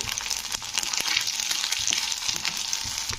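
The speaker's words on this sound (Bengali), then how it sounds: "তো লঙ্কার গুঁড়োটা একটু তেলের মধ্যে নাড়াচাড়া করে দিয়ে দিচ্ছি জল" Chilli powder frying in oil in a pan while being stirred, making a steady, loud sizzle with scraping stir strokes throughout, no talking.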